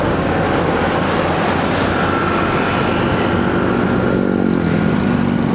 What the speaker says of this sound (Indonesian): Pesawat di atas kita.